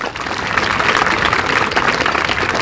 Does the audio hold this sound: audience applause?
yes